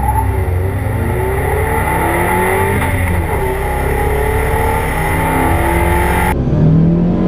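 A Mazda 3 accelerating hard from 0 to 60 mph, its engine rising steadily in pitch through a gear, loud and close from inside the cabin, with a shift and a climbing whine near the end.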